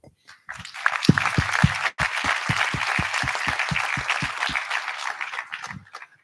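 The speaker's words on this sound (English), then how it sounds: "I want to round of applause for all of you." An audience claps at a school board of education meeting, with scattered claps building into steady applause and a few sharp near hand claps, then fading out at the end.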